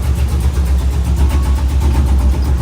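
A 2011 Camaro SS with headers and an X-pipe, loud and close, rumbling deeply in a steady, throbbing idle with light revs.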